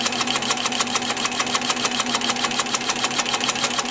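Sewing machine stitching through layered cotton and cotton-blend batting, a steady rapid mechanical chatter of needle strokes running evenly and close throughout, with no talk.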